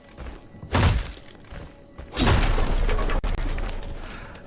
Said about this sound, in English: Okay, breaking the door.